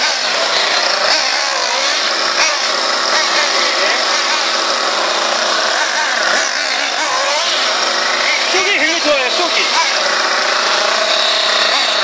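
A Kyosho Inferno Neo RC car with a KE25 nitro engine runs with a loud, high, buzzing whine that wavers and revs throughout, steady and close.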